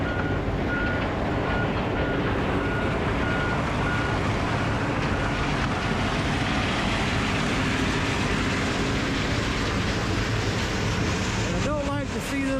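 A loader works steadily at a concrete recycling yard, its continuous diesel engine rumble and machinery noise filling the scene, with a faint repeating reversing beep near the start and a brief clatter at the end.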